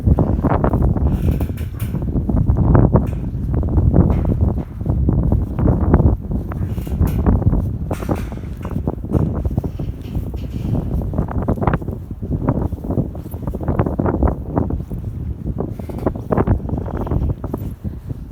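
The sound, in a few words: wind blowing outdoors in winter snow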